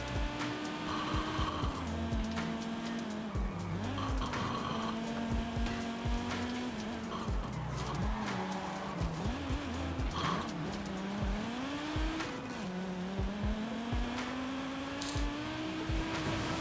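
An Audi Quattro in Forza Horizon 5 drives through water, its engine note rising and falling continuously with gear changes and tire noise, heard from the cockpit view at steady loudness.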